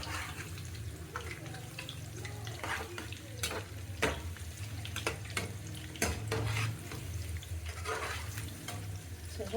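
Egg-coated kebabs fry gently in a pan over low heat with a steady bubbling sizzle and a low hum, while frequent clicks and scrapes of a utensil against the pan come and go.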